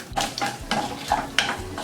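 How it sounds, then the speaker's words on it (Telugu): Garlic fries in a hot tempering for karonda dal with quick bursts of sizzle as a spoon stirs it in short, rhythmic strokes close by. No voices are heard. "వెల్లుల్లిపాయ కూడా బాగా వేగిందండి"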